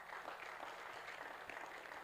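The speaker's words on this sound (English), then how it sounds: "can we give him a round of applause?" An audience at an academic faculty event applauds, a dense, steady wash of clapping that holds evenly at moderate volume for a couple of seconds.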